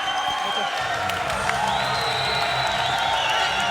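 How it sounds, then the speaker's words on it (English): Large arena crowd at a Bellator MMA fight in Kansas City gives a loud, sustained ovation, steady cheering and applause continuing throughout, with an announcer's voice over it. "A big ovation from this Kansas City crowd for Askren"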